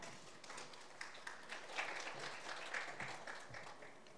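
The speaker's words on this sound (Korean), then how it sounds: "여러분, 연구위원님께 큰 박수 보내주시기 바랍니다." An audience in a large city-hall auditorium in Sejong applauds a research fellow introduced at a regional development policy seminar. The clapping is dense and sustained but faint and distant, with a few voices underneath.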